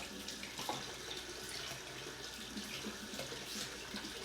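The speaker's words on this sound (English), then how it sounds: "I'm heating up water over here in my faucet. It gets pretty warm" Warm water runs steadily from a kitchen faucet, a continuous close hiss and splash that holds at an even level throughout with no voices.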